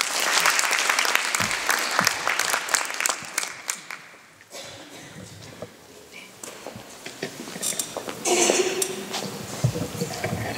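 Applause for an artist at a gallery opening at Youngeun Museum of Contemporary Art, a full round of clapping from the room that dips midway and swells again, with scattered individual claps.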